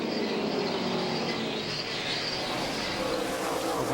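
NASCAR Busch Series stock cars race around Phoenix, a continuous wide roar of engines from a distance blending into a dense, steady wash with no talk.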